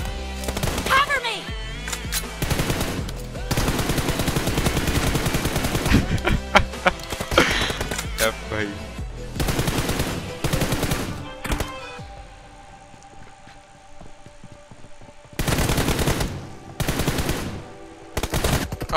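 Rapid bursts of M416 rifle fire in the mobile shooter PUBG Mobile, loud and close, coming in long sustained volleys with short pauses and a few single thuds, a voice talking over parts of it.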